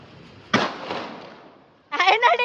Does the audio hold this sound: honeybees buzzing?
no